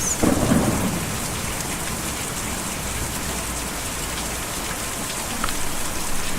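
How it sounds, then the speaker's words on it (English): Steady heavy rain with a low rumble of thunder rolling underneath, from a storm in the video game Kentucky Route Zero, a louder burst at the start and constant downpour throughout. "Difficult to see or even hear a storm like that."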